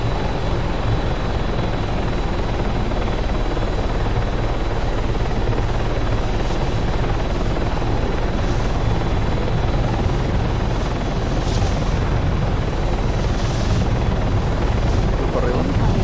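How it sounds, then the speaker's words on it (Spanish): Helicopter in the military game Arma 3, a steady loud rotor and engine drone running throughout, with faint voices talking over it in places. "Cuando vayas a despegar me dices pa meterle al helicóptero y seguirte."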